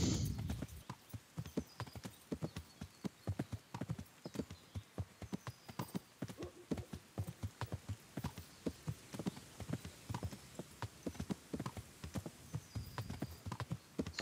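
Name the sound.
horse hooves on the ground in a video game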